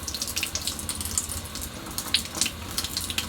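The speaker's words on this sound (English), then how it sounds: "turn on your hot water, nice good stream, run the wicks underneath it" Hot water runs from a sink tap in a steady stream while atomizer wicks are rinsed under it, a continuous close splashing hiss with small spatter variations and no talk.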